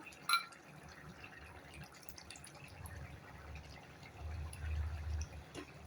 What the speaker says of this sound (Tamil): நெய் ஊற்றிடுவோம்.